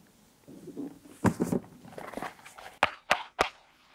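Hard wooden soles of Rick Owens clogs knock on the floor, a few sharp separate clacks spaced unevenly, fairly close and clear over a faint room murmur.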